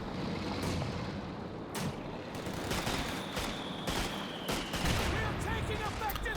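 Carbine and LMG fire from the video game Company of Heroes 2 plays as a dense, continuous battle din, with sharp rattling shots cutting through steady rumbling combat noise from start to finish.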